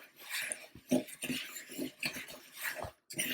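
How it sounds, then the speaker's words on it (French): Apple crumble ingredients for a croustade are mixed with a spoon in a bowl, a close series of irregular scrapes, clinks and thumps with brief pauses between strokes. "on va mélanger avec une cuillère."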